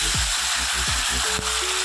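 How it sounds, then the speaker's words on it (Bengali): Poppy seed paste hits a hot frying pan and sizzles steadily, a loud, close, continuous crackling hiss with a few soft clinks underneath and no voices. "আমার ভাজা হয়ে গেছে এবার আমি পোস্ত বাটাটা দিয়ে"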